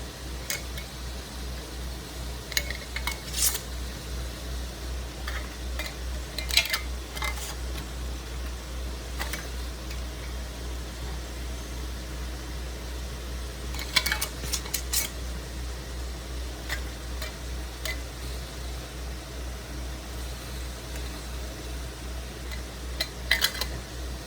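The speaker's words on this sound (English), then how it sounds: "Let's put the lids on." Metal lids go onto glass canning jars at home: scattered sharp clinks and taps of metal on glass at irregular intervals over a steady low background hum, with no talking.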